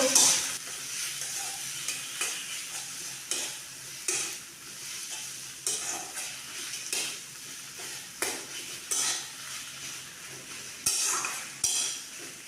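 Stuffed pointed gourd (potol dorma) frying in a pan, a constant soft sizzle broken by regular stirring strokes and light clinks of a spoon on metal, close and moderately quiet.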